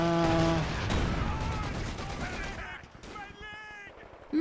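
Sporadic rifle and machine-gun fire crackles through a Company of Heroes 2 Ardennes battlefield, with sharp repeated bursts layered among tones and game sounds, and the fire thins toward the end.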